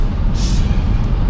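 An Abt RS5-R Audi braking hard on the Autobahn, with a brief hissing burst of air over a loud, rumbling engine and road noise close by.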